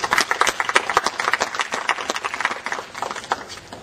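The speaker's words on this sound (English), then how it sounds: "that's the most applause I've gotten in a long, long time" An audience at a talk about the 2007 Ironman race near Auburn University breaks into brisk applause, with many hands clapping close and fairly loud, tapering slightly toward the end.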